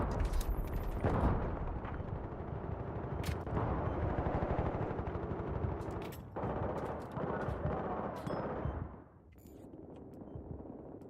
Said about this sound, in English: This is the AK-74.